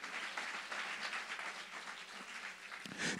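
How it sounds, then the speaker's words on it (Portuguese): A church congregation applauds loudly and steadily during a worship service, a dense wash of clapping from many hands that holds throughout and swells again near the end. "aplauda bem forte ao Senhor Jesus"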